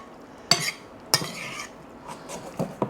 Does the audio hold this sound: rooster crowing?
no